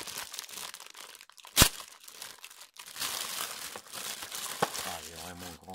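Plastic packaging of a Naruto figurine from the Altaya collection crinkles and tears as it is opened, with a sharp rip partway through and steady rustling throughout, close and fairly loud.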